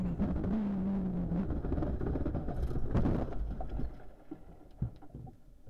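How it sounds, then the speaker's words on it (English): Rally car in a Belgian Rally van Haspengouw stage, heard from on board: a loud, continuous engine roar with a rising tone, then rough rumbling and thumps, the drone easing near the end; no talk. "Here we go again from on board the car."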